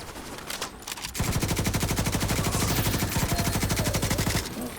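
An LMG fires a long, fast, evenly paced stream of shots in the video game The Division, loud and sustained over a few seconds before cutting off.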